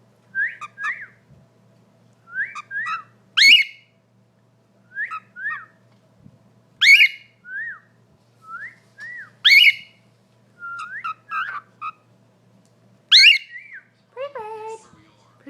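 A pet bird whistles a run of short, clear, rising and falling phrases, repeated with pauses between them, close and fairly loud above a faint low hum.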